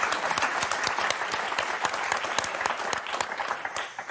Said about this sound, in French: on va vous applaudir très très fort